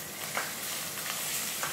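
Quail frying in a pan, skin browning for a stuffed quail dish with morels, a soft continuous sizzle with faint crackles and spits, close and steady, no talk.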